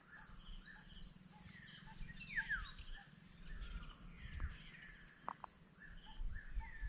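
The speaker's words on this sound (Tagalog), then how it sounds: "Grabe, nag-iingay yung mga ibon mga kalahi." Birds calling in a forest, scattered chirps and short whistled notes over a constant bed of insect buzzing and crickets, fairly faint and distant.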